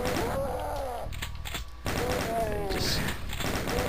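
Gunfire from shotgun enemies in Doom 2 on Map12, The Factory: repeated heavy blasts and thuds within dense game music and effects, with someone talking over them.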